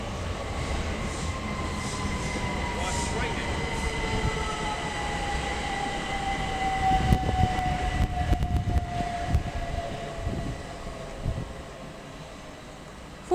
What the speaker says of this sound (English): This train has 10 coaches.